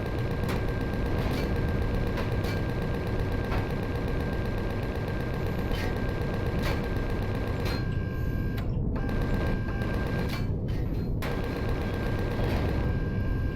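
Rapid enemy gunfire in the space survival game Empyrion Galactic Survival, a dense, steady rattle of shots running continuously with brief gaps near the end.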